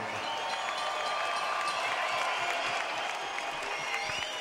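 Crowd at the Hershey Center applauds and cheers after a hard-fought ten-round boxing bout, a dense, constant roar of clapping and voices throughout.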